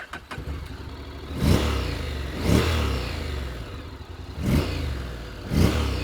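A 2025 Honda NC750X DCT motorcycle idling after start-up, a quiet steady engine rumble with four soft rises as the throttle is blipped, heard close and alone.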